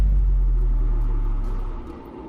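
A car passing close by gives a steady, loud low rumble that holds for about two seconds, then eases and fades slightly toward the end, with no voices.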